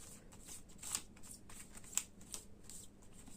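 Tarot cards are shuffled and handled close by during a reading, with soft papery swishes and a few crisp snaps spread over a few quiet seconds.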